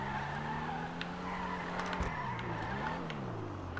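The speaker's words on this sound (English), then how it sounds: "This car, it'll slide no problem if you want it to." A Dewbauchee Specter DB10 slides in GTA, its tires squealing over a humming engine whose pitch bends and wavers as the car drifts. It is fairly quiet, with faint chiming effects in the background.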